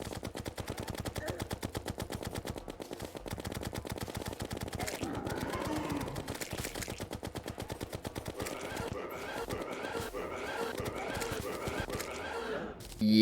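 Rapid, dense combat effects from a Terraria boss fight against the Eye of Cthulhu: a steady stream of quick, repetitive hit and shot sounds runs loud and continuous throughout, with no talking.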